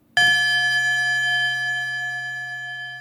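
A single struck bell-like tone from an nRings resonator Eurorack module rings out sharply, then sustains cleanly and slowly decays with pure overtones, alone in silence.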